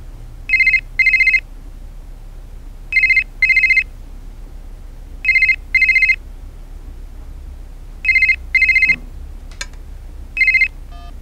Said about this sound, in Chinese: 这电话是谁的呀？